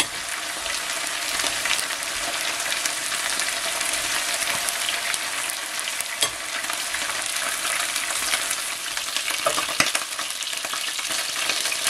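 Meat sizzles and fries steadily in a hot pan on the stove, a dense continuous crackle with no pauses and no talking.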